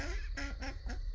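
A Rouen duck quacks close by in a short series of three or four raspy, nasal calls at a steady rhythm, heard alone near a pond draining into a greenhouse.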